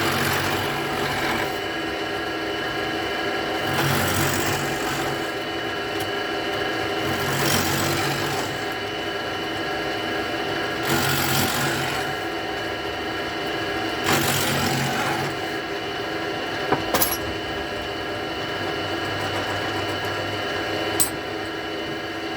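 A tool shaves thin half-millimetre passes of wood off a Flying V guitar body in a 1958-style build. The rasping cutting noise runs steadily throughout, with a few louder bursts repeating every few seconds.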